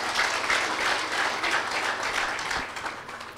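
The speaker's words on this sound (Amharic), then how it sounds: "አጨብጭቡ ለጌታ" Church congregation applauding the Lord during a prophetic service, a steady dense wash of clapping held at even loudness throughout.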